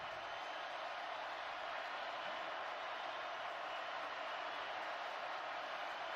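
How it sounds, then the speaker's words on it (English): Roaring football stadium crowd of just over 101,000 at a Tennessee vs. Missouri college game, cheering loud and sustained on third down, a steady broadband wall of noise throughout. "You can hear this crowd get into it."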